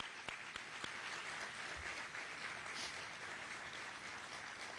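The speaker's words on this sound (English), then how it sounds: "Can we give him a huge round of applause?" University audience applauding a large gift to the Hamilton Center at the University of Florida, a steady wash of clapping from a big crowd heard at a distance and fairly faint, with a few sharper nearby claps.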